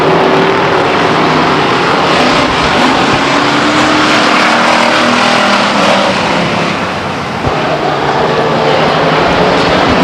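Stock cars race in a tight pack at Stockton 99 Speedway, a loud, constant engine roar filling the whole stretch with no break, close to the track.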